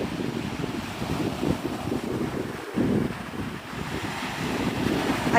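Strong, steady wind at Navarre Beach, Florida roars and buffets close against the microphone, mixed with the broad wash of surf, loud and continuous throughout with no voices.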